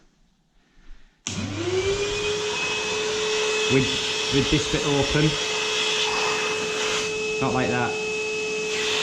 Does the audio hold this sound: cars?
no